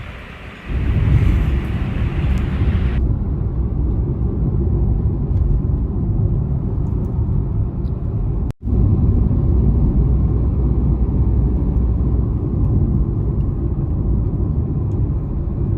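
A car driving on a ghat section road through hills on a trip to Goa, with a steady loud low engine and road rumble and wind noise throughout, plus a brief dropout midway.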